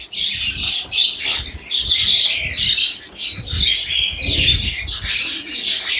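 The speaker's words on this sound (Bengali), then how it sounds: "অসংখ্য কবুতর, অসংখ্য অসংখ্য কবুতর ওনার দোকানে।" Pigeons crowd a stall at a pigeon market, loud and close, with a constant overlapping chatter of squawks, chirps and coos. Other birds squawk in short bursts all around.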